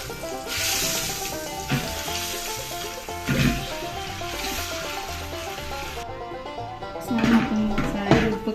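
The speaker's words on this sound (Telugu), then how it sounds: "గుడ్లను బాగా ఫ్రై చేసుకోవాలి" Boiled eggs frying in a pan with chili powder and turmeric, a steady sizzle with occasional stirring scrapes and clinks, while a person talks over it.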